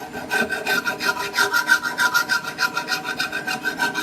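A file rasps back and forth across hardened sword steel to test its hardness, giving steady, evenly spaced scraping strokes, close and fairly loud, with no talk.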